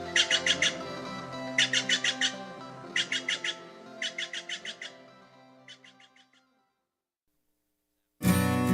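Steller's jays give repeated bursts of rapid, rattling chattering calls in regular groups, close and loud at first, then fading to a faint final burst, followed by silence and a sudden loud noise at the end.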